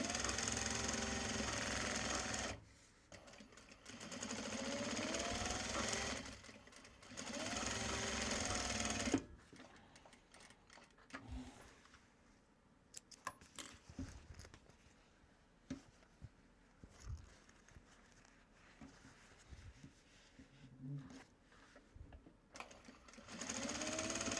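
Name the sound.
sewing machine stitching a Japanese fabric bag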